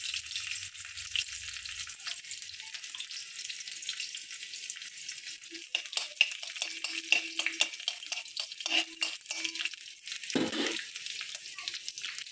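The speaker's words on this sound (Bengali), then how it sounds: "রসুনটা একটু ভাজা হোক," Oil sizzles and crackles steadily in a wok as chopped garlic and dried chillies fry, with scattered pops and a few clinks of a spatula toward the end.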